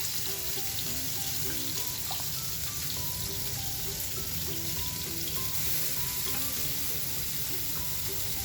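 Kalmas, a Malabar snack from Kannur and Thalassery, sizzle in hot oil after being dipped in masala, giving a dense, continuous close-up frying crackle with faint tonal sounds in the background.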